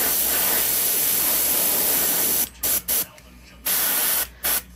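A loud, steady hiss of spray paint runs for a couple of seconds, then continues in several short bursts separated by brief pauses, while painting a custom gill pattern.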